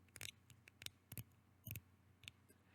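Thumb dial on an adjustable single edge razor being turned, giving a series of about ten sharp, close clicks in an irregular rhythm, quiet and alone.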